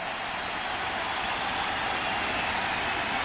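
A packed crowd at a Cardinals home baseball game against the Astros roars steadily with Albert Pujols batting and the bases loaded, a continuous dense wash of cheering with no break.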